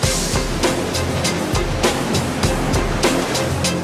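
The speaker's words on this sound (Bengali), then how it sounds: "নদীর জলকে উল্টো পথে বইতে বাধ্য করে এবং বিরাট আকার ঢেউ সৃষ্টি করে" Loud, continuous rushing of a river tidal bore with repeated surging crashes, big waves churning and breaking close by; no voices.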